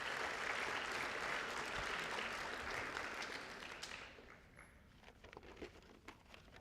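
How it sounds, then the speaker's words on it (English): Team members and families at a youth soccer club's senior night give a round of applause that fades after a few seconds into scattered claps and quiet room noise. "Give everybody a round of applause."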